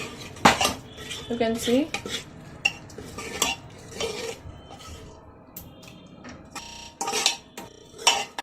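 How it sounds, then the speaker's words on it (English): A spoon clinks and scrapes against a pot while stirring a masala mixture, giving irregular metallic taps and rattles, close and fairly loud, with a brief spoken phrase. "Now we will mix it well."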